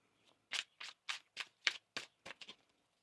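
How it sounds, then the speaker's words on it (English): Tarot cards being shuffled by hand: a run of about eight crisp riffling bursts in a steady rhythm, close and clear with no talking. "One more shuffle here."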